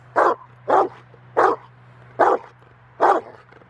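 A dog in obedience and protection training barks five times in an even rhythm, each bark loud and close, with a low steady hum underneath.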